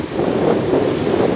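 Steady wind buffets the microphone with a rushing roar at a beach, and surf noise sits underneath. No one speaks.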